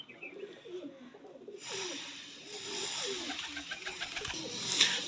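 A teddy pigeon coos softly with light bird chirps over steady background noise, with a sharper call near the end.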